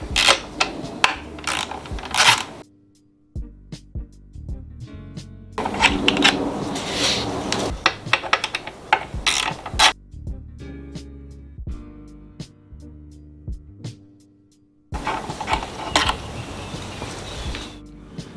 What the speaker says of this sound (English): We're going to start by removing these fasteners on both sides of the tank.